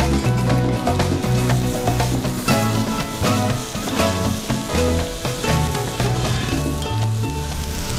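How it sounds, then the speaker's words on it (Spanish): Potatoes fry in margarine in a pan, a loud continuous sizzle with crackling pops and occasional stirring, close up and alone without speech. "que se doren bien las papas para poder agregarle el puerro y la cebolla"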